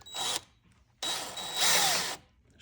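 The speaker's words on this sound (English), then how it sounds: "So the next thing we're going to do is drill right here" Power drill boring through the metal frame of a La-Z-Boy sectional recliner, two bursts of loud whining drilling, a short one, then a pause, then a longer run with rising pitch before stopping.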